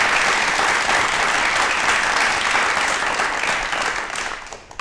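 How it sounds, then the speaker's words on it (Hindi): Sustained, loud applause from the audience at an Indian television talk show, steady clapping for nearly five seconds that thins slightly near the end. "एक बार मैम के लिए तालियां जोरदार होनी चाहिए।"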